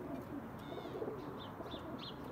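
Pigeons coo softly, a few faint, repeated rising calls over a low, steady background hum.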